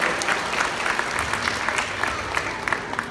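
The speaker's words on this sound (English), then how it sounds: "let's give Christian from Texas a round of applause" A zoo show audience claps for a volunteer in a short, steady round of applause, with a few sharper claps standing out near the front of the crowd.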